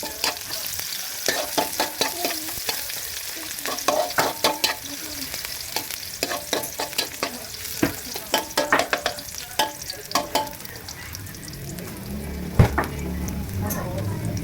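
Garlic and onion sautéing in a pan for a corn dish, a steady sizzle under repeated sharp clinks and scrapes of a utensil stirring against the pan, close and fairly loud, with a brief clatter near the end.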